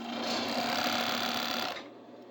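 A sewing machine stitching the shoulder and collar of a garment runs in a steady, fast mechanical whir for under two seconds, then stops abruptly, leaving quiet room tone.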